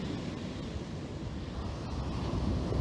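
Ocean waves wash steadily onto a shore in a broad, continuous roar of surf, rising slightly toward the end, with no voices over it.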